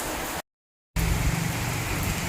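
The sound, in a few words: heavy rain and strong wind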